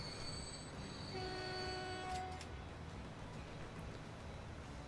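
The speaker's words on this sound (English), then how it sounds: "is that the coal train?" Coal train in the video game Transport Fever, with rolling rail clatter, a brief horn-like tone and high wheel squeal, faint and distant under a steady rumble.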